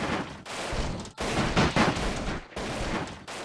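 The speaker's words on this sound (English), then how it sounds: "I actually just noticed that the rifles are able to shoot down here too" Rifles firing downward from an airship in the game Airships, loud rattling volleys in several dense bursts separated by brief silent gaps.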